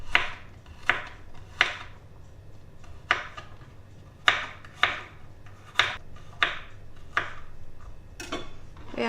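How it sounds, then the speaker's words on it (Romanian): A knife slices garlic cloves on a cutting board in a string of about a dozen crisp, close taps at a loose, unhurried rhythm over a quiet background hum, with no talking. "Feliem și căței de usturoi."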